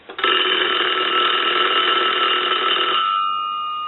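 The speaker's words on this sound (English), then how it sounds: "and I'll go ahead and ring the unit." A North Electric Gallion rotary telephone bell rings loudly and up close in one continuous burst of about three seconds, then fades into a lingering metallic ring.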